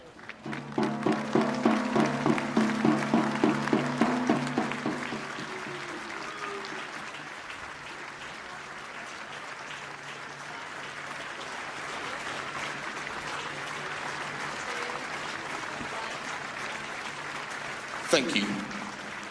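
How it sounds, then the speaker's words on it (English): Stadium crowd at a Perth Glory v Auckland FC A-League match applauds in tribute to the late Rado Vidosic, a broad sustained clapping and murmur, loudest early then settling into a steady softer wash, with a brief sharper burst near the end. "please stand for a moment of applause for Rado Vidosic"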